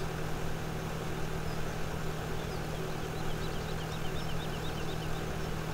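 A tractor engine idles in Farming Simulator 17 with a constant low droning hum and no change in pitch or voices.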